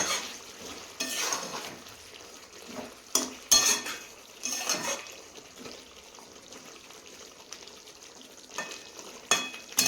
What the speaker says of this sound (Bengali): দিয়ে একটু নাড়াচাড়া দিয়ে আবার ঢেকে নেব।